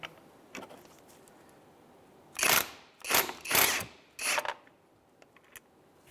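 Ratchet working on a 15 mm pulley wheel bolt of a 2003-2011 Honda Element, four quick rasping clicking bursts close by against a quiet background.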